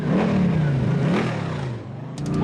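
A big-block 496 cubic inch engine of about 600 horsepower in a Monster Jam truck revs loudly and close by, its pitch climbing and falling before it settles into a lower rumble.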